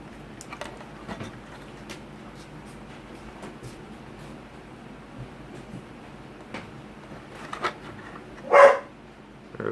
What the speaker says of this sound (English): There's my dog barking at farting crickets.